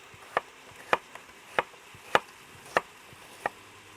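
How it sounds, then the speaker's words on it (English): A knife chopping vegetables finely on a board for a tomato onion bhuna masala, six crisp evenly spaced chops about every half second, close and clear with no talking. "all we're going to do then is quite finely chop them, you know, about 1/2 inch"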